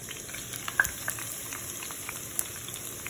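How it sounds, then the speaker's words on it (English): Garlic and basil frying in oil, a soft continuous sizzle with scattered small pops and crackles, close but quiet. "Just going to let that fry"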